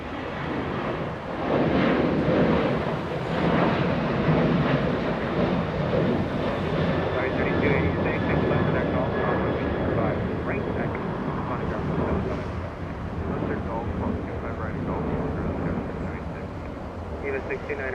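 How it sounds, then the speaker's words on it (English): Alaska Airlines Boeing 737 taking off at LAX, a broad, steady jet engine roar building and holding over many seconds, heard from a distance with wind noise and talking over it. "Little Alaska getting a move on, lifting off as we speak."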